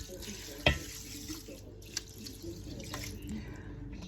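Water pours steadily into a pan for oven-cooked rice, with a faint running hiss and a sharp clink near the start, quiet and close.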